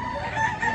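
A fighting rooster crows at a gamecock market in Lipa City, Batangas, a single sustained call up close over steady background noise.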